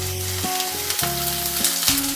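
Chopped onion and curry leaves hit hot oil with popped mustard seeds for a sprouted green gram and carrot thoran, sizzling loudly and steadily from close by with no talking.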